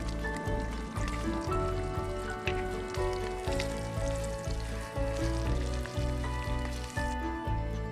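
Sausage with tomato, cheese and two eggs sizzling steadily in a pan over a stove, a dense continuous frying hiss with regular low thumps underneath and no talking.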